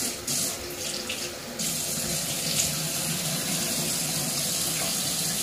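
Tap water runs steadily into a sink while a face is splashed and wetted with it, the splashing busiest at the start over a continuous close rush of flowing water, no voices.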